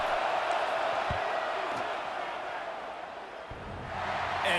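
Stadium crowd roars steadily during a field goal attempt on fourth down in EA Sports College Football 26, Michigan at Michigan State, a loud continuous wash of noise with a commentator's voice over it.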